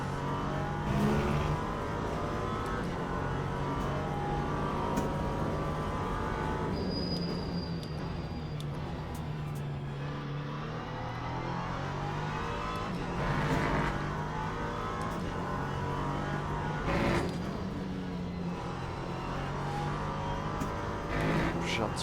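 LMP3 prototype race car lapping Le Mans in the Le Mans Ultimate sim, its engine droning steadily with rising and falling revs and gear changes across the whole stretch, loud and close, with someone talking over it.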